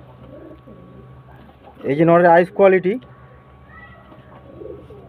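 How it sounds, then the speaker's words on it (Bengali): A male pigeon coos softly in a loft, low murmuring calls in the background while someone speaks loudly in the middle of the stretch. "এটা নর পায়রা"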